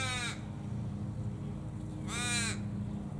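Australian ravens feeding on silky oak blossoms: two drawn-out, harsh descending caws from a single raven, fairly close, separated by about two seconds of quiet background.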